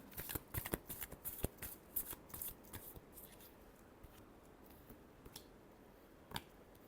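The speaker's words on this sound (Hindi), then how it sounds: "Last shuffle." Tarot cards shuffled by hand in a rapid riffling burst of crisp snaps and flutters, close and fairly quiet, easing into a few sparse taps and a final card flick.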